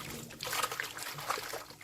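Blanched perilla leaves being rinsed in water for a third time, with a steady soft trickle and sloshing of water close by, fairly quiet and continuous throughout.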